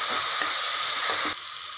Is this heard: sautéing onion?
yes